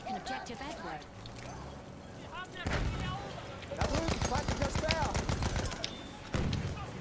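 Repeated gunshots and heavy blasts hit a tank in Battlefield 1, coming in dense rattling volleys with a few sharp bangs, under players chatting.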